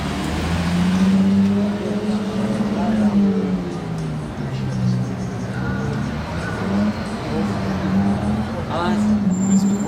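A convoy of Lamborghini Aventadors, one fitted with a Capristo exhaust, passes by. The engine notes rise and fall as the cars go past at moderate distance, under steady road noise, and people talk nearby.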